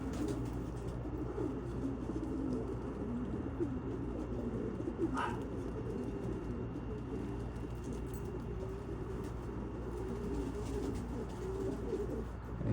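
White racing pigeons, cockbirds chasing hens around a loft, coo steadily in a dense low rumbling chorus that fills the whole stretch at close range, with one brief sharper chirp midway.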